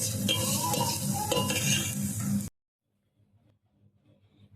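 Garlic fries and is stirred in a pan while upma is cooked, a dense, steady sizzle with metal utensil scrapes for about two and a half seconds before it cuts to near silence.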